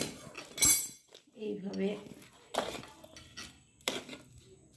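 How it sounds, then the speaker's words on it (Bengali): A spatula stirs a sugar mixture spread on a plate for white sugar naru, giving a few sharp metallic clinks and scrapes against the dish, heard alongside someone speaking. "এইভাবে আমি খুন্তি দিয়ে নাড়তে থাকলে চট করে ঠান্ডা হয়ে যাবে"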